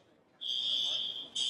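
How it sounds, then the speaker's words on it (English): An airport door alarm in Dubai sounds as an inspection crosses between secure arrivals and departures areas. After a short quiet start, a loud, steady, high-pitched electronic tone rings continuously and jumps briefly brighter near the end. "Thankfully, it's not a fire alarm, but a door alarm working normally as the inspection crosses secure areas"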